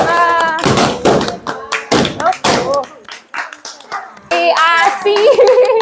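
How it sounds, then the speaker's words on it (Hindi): Family members clap at a birthday cake cutting, with loud sharp hand claps in uneven bursts mixed with excited voices and someone speaking close by. "तालियां"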